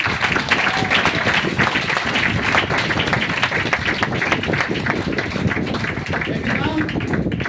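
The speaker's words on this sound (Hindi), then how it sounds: "जब भी बोला जाए तो ताली लगाना" An audience at a branch business meeting claps steadily and loudly, a dense continuous patter of many hands close by, with voices mixed in under the applause throughout.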